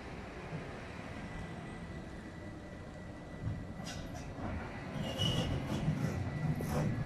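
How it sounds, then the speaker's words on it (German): A Stadtbahn light rail train approaches a construction-site track lock near a high platform, a low steady rumble building gradually, with faint squeaks and clanks rising toward the end. "So, da kommt die Bahn."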